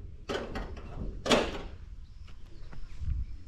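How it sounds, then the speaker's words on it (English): A shower block door at a campsite in Zimbabwe swings shut with one firm, fairly close thud, followed by faint rattles and quiet room noise. "And yeah, we'll close this door."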